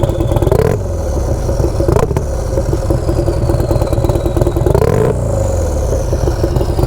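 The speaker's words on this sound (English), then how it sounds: "Sounds like a turbo. It sounds like one of those like really big trucks that you hear like going down the road, but in a motorcycle." Turbocharged Harley-Davidson 131ci Stage 4 Street Glide engine roaring loud and close, a deep continuous rumble rising and falling through several rev swells and gear changes, with no talking.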